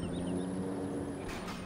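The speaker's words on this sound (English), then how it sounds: "This truck's just high idling here and shifting gears on its own accord." A truck engine sits at a high idle, giving a steady, moderately loud drone with a faint high whine above it and a brief hiss near the end, with no voices.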